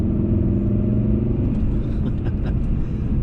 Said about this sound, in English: what you don't get in newer Volvos now is the 5-cylinder noise